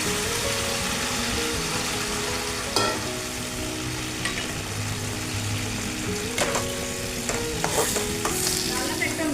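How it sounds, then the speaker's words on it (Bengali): Fried tilapia pieces tipped into a cumin paste in a hot pan and stirred: steady close sizzling and frying with scraping stirs and a few clinks, continuous and without any talk. "এবারে এই যে ভেজে রেখেছি মাছগুলো দিয়ে দিচ্ছি।"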